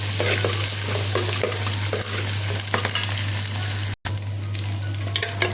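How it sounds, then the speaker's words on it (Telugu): Cooked goat head curry is tempered in hot oil, giving a loud, continuous sizzle and frying hiss with scattered stirring scrapes throughout, interrupted by a brief dropout near the end. "ఇప్పుడు ఉడికిన తలకాయ కూరను ఇంకా తాలింపు పెడతానండి."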